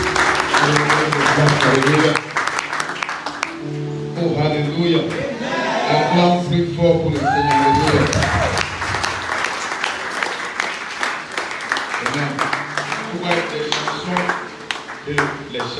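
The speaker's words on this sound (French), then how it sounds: "Acclamons pour le Seigneur." A church congregation applauding and cheering for the Lord, loud sustained clapping with voices and shouts rising through it, continuing strongly to the end.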